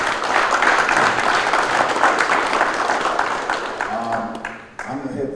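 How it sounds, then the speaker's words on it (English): Loud crowd applause for urban football coaches at an alliance gathering, a thick sustained roar of clapping that thins out near the end as voices begin to come through. "we need to give all these coaches a round of applause"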